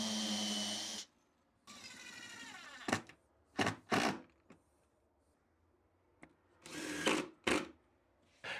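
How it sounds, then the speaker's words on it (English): Power drill pre-drilling and driving screws into wood rails, several short bursts of whirring separated by quiet pauses, fairly close. "I glue and screw it to the rails, making sure to pre-drill and countersink as I go"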